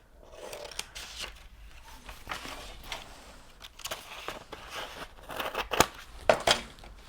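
Scissors snip through paper for a handmade craft, a series of close, crisp cuts and crinkles that grow busier and louder toward the end, with no talking over them.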